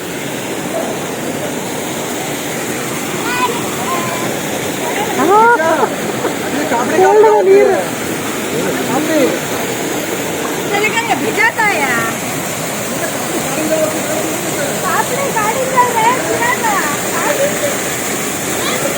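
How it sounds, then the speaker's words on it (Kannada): Water streams from a stone bull-mouth spout beside the temple at Kallathigiri falls in Chikkamagaluru. It makes a continuous rushing flow, with voices talking intermittently over it. "ದೇವಸ್ಥಾನದ ಹತ್ರ ನೋಡಲ್ಲಿ ಬಸವಣ್ಣನ ಬಾಯಿ ಬರ್ತೈತಿ ನೀರು"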